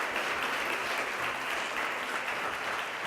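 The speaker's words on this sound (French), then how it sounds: "Bonne main d'applaudissements d'abord." Audience at an evening business panel in Shawinigan clapping for the city's mayor, a steady, even patter of many hands at moderate distance, lasting a few seconds without speech over it.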